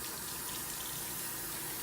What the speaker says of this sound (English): We're going to wash our hands with warm soapy water